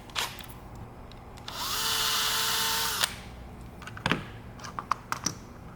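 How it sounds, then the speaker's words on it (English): A small drill whirs for about a second and a half, enlarging a hole in a 3D printed revolver hammer, framed by light clicks and taps of handling before and after. "I may need to drill that hole a tiny bit bigger."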